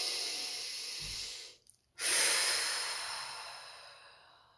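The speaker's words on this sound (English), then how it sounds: "Hand on your heart, take a deep breath." One deep breath is drawn in and then slowly released, a soft, close, breathy rush with a short pause between inhale and exhale and no talking.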